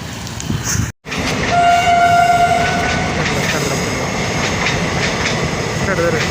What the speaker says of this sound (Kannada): ಇಲ್ಲೇ ಟ್ರೈನ್ ಹಾದಕತಿ